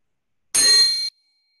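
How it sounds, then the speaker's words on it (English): A single meditation bell struck once during a Zen session, a bright ringing tone that starts sharply out of silence, holds for about half a second and then cuts off. "They're gonna ring a bell right now"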